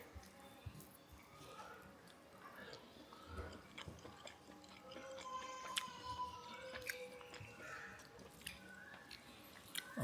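Someone eats a home-cooked meal of rice with fried spiny gourd and mashed potato, close and quiet, with soft chewing, wet squishes and small clicks from hands and plate throughout.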